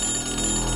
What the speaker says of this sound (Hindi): उसके टेलीफोन पर फिर से घंटी बजती है।